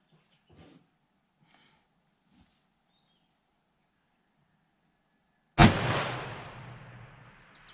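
A single rifle shot fired at a target 1 km away breaks a near-silent stretch with a sharp, loud crack, followed by a long rolling echo that fades over the last two seconds, after a few faint soft knocks.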